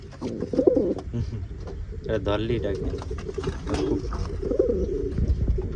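Pigeons cooing close by in a loft where one has laid an egg, soft repeated throaty coos throughout, with someone talking over them.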